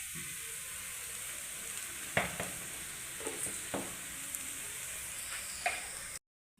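Beef curry sizzles in a hot pan while being stirred, with a steady frying hiss broken by several scraping, clattering stirs of the spoon against the pan, close up, no talking.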